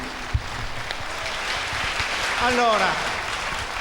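An audience applauds Senator Paolo Giaretta at a Partito Democratico gathering, a steady wash of clapping that swells slightly before fading, with a voice breaking in briefly over it.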